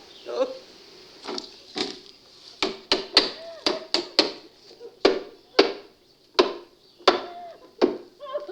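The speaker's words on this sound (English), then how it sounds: "Go get the hammer and nails" Hammer blows striking nails into wood, a series of sharp, loud knocks in irregular bursts, some doubled in quick succession, with voices speaking faintly underneath.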